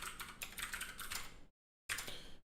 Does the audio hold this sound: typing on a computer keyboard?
yes